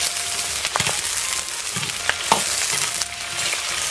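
Chilies, Sichuan peppercorns and sauce are stir-fried in a wok, giving a busy close sizzle with repeated scraping stirs and spatula knocks.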